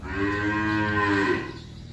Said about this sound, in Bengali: এই হলো আমার 6 নাম্বার মুন্ডি বকনা বাছুর